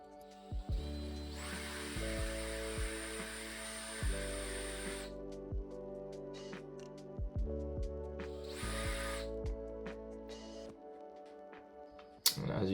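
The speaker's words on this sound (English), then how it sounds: "So at the end I just use my drill, which makes the job much easier and faster." A cordless power drill backs screws out of a classic Italian Rossino steel bike frame, its motor whining in repeated bursts of a few seconds each, with short pauses between runs and a faint clatter near the end.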